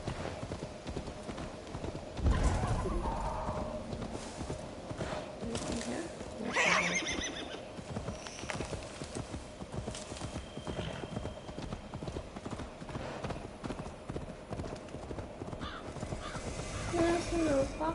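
A horse in a PS5 video game whinnies and its hooves clip-clop steadily, heard alongside other game sounds at a moderate level.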